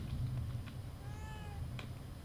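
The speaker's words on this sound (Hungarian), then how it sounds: "A cat." A cat in the horror video game The Evil Within 2 gives a single faint, drawn-out meow over a steady low background rumble in an office.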